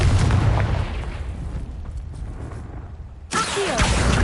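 A Confringo fire spell goes off in Hogwarts Legacy as a loud, booming blast with a rumbling tail, followed by a second sharp burst near the end; no speech.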